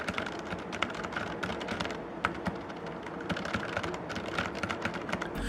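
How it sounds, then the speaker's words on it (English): Rapid, continuous clicking of keys being typed on a Gamdias Hermes M3 gaming keyboard with brown switches, close and busy with uneven bursts of keystrokes. "Typing on this keyboard was a dream"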